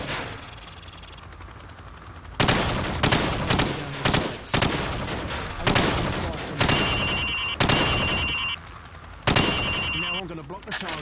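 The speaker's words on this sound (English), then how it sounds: "Now, shoot at the targets while firing from the hip." Bursts of rifle fire shot from the hip at targets on a training range in Call of Duty 4: Modern Warfare, about seven loud, close volleys separated by short pauses, with faint electronic beeps in between.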